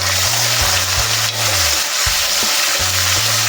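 Tomatoes added to browned onions fry in a pan for a flour-and-vegetable curry, giving a steady close sizzle over a low, wavering background hum.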